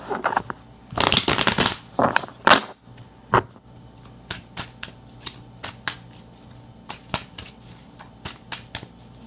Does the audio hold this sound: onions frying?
no